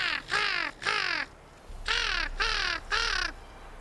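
A human voice imitates a crow, producing five harsh, descending caws in two clusters, loud and close with brief pauses between calls.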